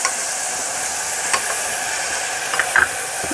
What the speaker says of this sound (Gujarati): હવે સેજ પાણી નાખી દઉં એટલે મસાલો શું બળે નહીં